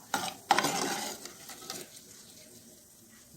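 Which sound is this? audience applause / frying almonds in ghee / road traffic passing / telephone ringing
frying almonds in ghee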